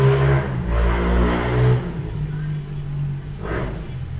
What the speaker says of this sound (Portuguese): Foi uma moto que passou